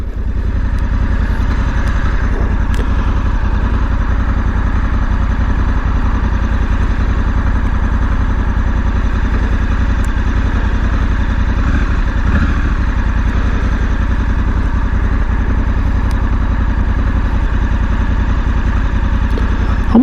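A Honda Africa Twin motorcycle engine idles steadily and loudly for twenty seconds, a constant low rumble with light mechanical clatter and no talking.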